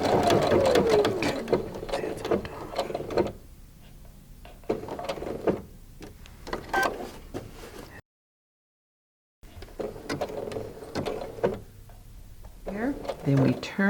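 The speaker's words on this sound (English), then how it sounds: "our baby lock machine does a beautiful job with the blanket stitch." A Baby Lock sewing machine runs a blanket stitch on a quilt block in short bursts of rapid needle chatter with pauses, while someone talks over and between the stitching.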